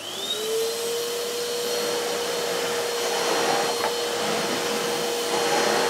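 A Numatic Henry Xtra HVX200 vacuum cleaner runs steadily over carpet with its standard nozzle, a loud continuous motor whine and airflow roar holding throughout, its pitch rising briefly as it spins up at the start.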